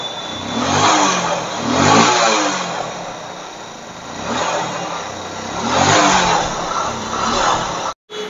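A Hero Honda Splendor motorcycle engine revs in repeated swelling bursts, rising and falling several times close by, then cutting off abruptly near the end.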